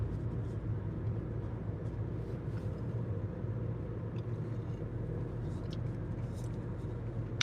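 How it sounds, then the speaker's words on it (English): Constant low road rumble inside a moving old Chinese car, a steady droning hum with occasional faint clicks and rattles over it. "The old Chinese car's a bit noisy."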